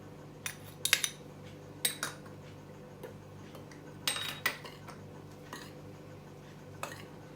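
A spoon stirs baking soda and baking powder in a bowl while batter is prepared for sugar-free oat, date and orange muffins. Light, sparse clinks and taps sound irregularly and quietly against the bowl.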